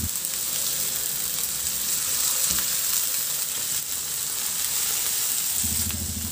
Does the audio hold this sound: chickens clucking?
no